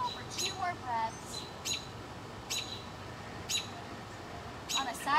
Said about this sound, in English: I'm loving all these bird sounds out here.